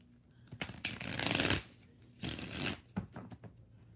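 Tarot cards being shuffled by hand, close and crisp, in two long riffling bursts followed by a few short flicks and taps.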